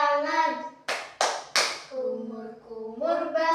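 Three sharp hand claps land in a quick rhythm between sung phrases, as a voice chants along.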